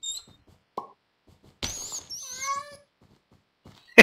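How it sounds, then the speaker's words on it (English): Cat meowing in the video game Minecraft, a short plop followed by a clear, close meow with a wavering pitch, set against near silence. "There is a kitten out here, I know it. I can hear."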